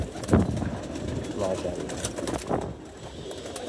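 Pigeons coo softly in low, throaty bursts while someone talks over them at a pigeon keeper's loft readying birds for a flying tournament.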